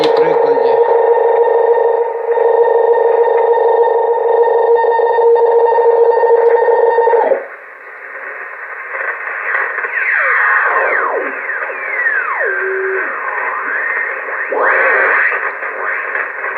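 Shortwave receiver noise: a steady whining tone and hiss, then shifting, swooping tones and crackle as the band comes alive, continuous and fairly loud.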